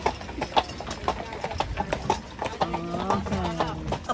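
Hooves of a horse-drawn carriage clip-clop on pavement near Neuschwanstein Castle in Füssen, Germany, a steady rhythm of sharp, fairly close hoof strikes, with a brief whinny-like tonal sound late in the clip and street ambience around.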